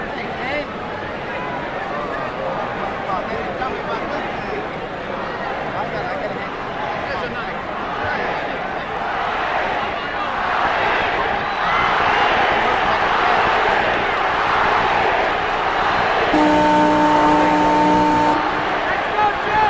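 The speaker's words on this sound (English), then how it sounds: "The crowd is chanting Ali" A large boxing crowd at the Ali vs. Frazier Fight of the Century roars and chants for Ali before round 8, a dense, continuous wall of voices that swells steadily louder.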